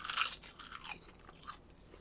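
Crisp, loud crunching of a Korean seaweed snack bought from a vending machine in Japan, a burst of bites at the start followed by quieter chewing crunches, with no talking.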